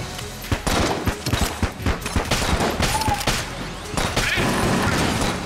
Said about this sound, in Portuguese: Ah, é o tiro de sinalizador.